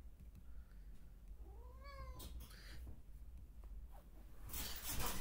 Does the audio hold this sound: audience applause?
no